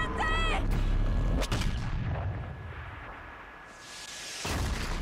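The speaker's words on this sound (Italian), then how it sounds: "Adoro usare questi cannoni, veramente." Heavy cannon blasts in the video game Horizon Zero Dawn boom loudly with deep rumbling impacts, followed by a sustained tone and a trailing roar of battle noise.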